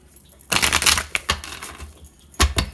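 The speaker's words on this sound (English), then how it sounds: "I love the way this deck shuffles" Close, crisp riffling and clattering of a tarot deck being shuffled, a long dense flurry followed by a few sharp taps and another short burst.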